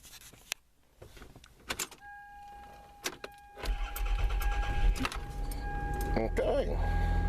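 A Toyota Sienna with a freshly installed starter cranks briefly and catches, settling into a loud steady idle, after a few clicks, a warning chime and faint talk beforehand.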